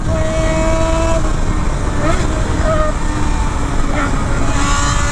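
A motorcycle engine labours while climbing uphill in fifth gear, a loud continuous drone with slowly shifting tonal whine, rising and dipping slightly over several seconds.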